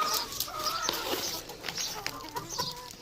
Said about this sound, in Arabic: بصوا بقى الفراخ، تعالوا نوديهم الاول.